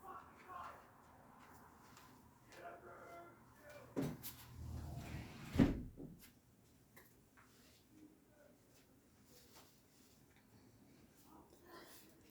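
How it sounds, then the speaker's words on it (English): A sliding patio door being closed at home, heard as a rumbling slide and a thump in the middle, with soft indoor noise before and after. "I'm just going to go close my patio door."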